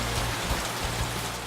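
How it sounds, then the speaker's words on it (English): Heavy rain pours down at night in Portishead, a dense, steady hiss of a rainstorm with no breaks. "as night falls, yet another rainstorm hits"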